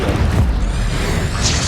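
Incendio fire spell cast in the Hogwarts Legacy video game, a deep booming burst that swells and rumbles for a moment, then trails off into a softer whoosh.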